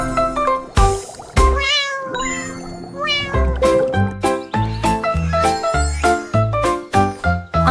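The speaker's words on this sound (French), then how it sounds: "Il plissa les yeux, cligna des yeux, puis laissa échapper un miaulement." A cat meows repeatedly, close and clear, with a faint jingling in the background between calls.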